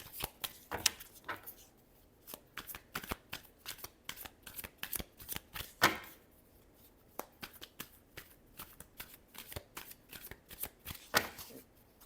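Tarot cards being shuffled by hand for a Libra love reading, a long run of quick crisp riffling bursts and soft slaps at close range, with short pauses between, and no talking over them.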